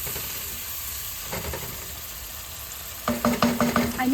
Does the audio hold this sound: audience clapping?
no